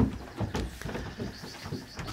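A herd of goats with newborn kids gives short, overlapping bleats over soft shuffling and rustling, fairly quiet and close.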